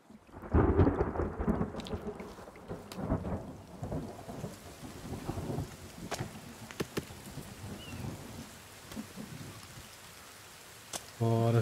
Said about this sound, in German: das Regnen feiere ich gerade richtig